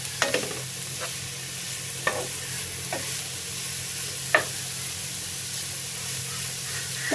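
Papaya zorda, a sweet papaya halwa, stirred slowly in a pan, giving soft scraping strokes at irregular intervals over a faint steady sizzle, with no voices.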